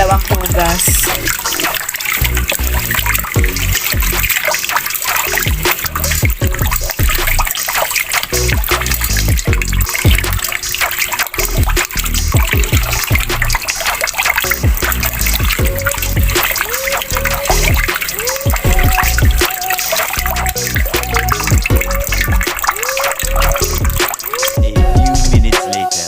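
Rice being washed in water by hand before cooking in a rice cooker, with continuous sloshing, trickling and splashing, loud and close, under intermittent talk.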